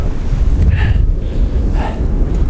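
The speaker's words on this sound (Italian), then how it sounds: "c'è troppo vento." Strong mountain wind on the Lagorai range in Trentino roars and buffets the microphone in a loud, continuous rumble with gusty surges, close and unbroken throughout.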